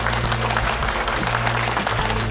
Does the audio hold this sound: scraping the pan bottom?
no